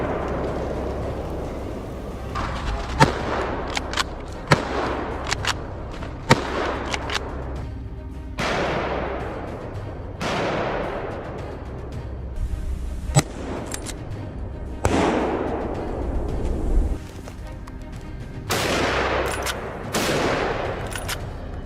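Rifle gunshots during a wild boar hunt across snow-covered hills, heard as a series of sharp, loud cracks spaced every few seconds, each followed by a long rolling echo that fades out across the open terrain.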